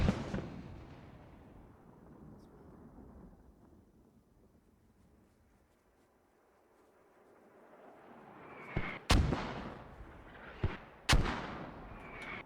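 Mortar fire in the video game Squad: a long rumbling roar fades away, then several sharp, loud blasts crack out in quick succession near the end, with wind-like noise between them.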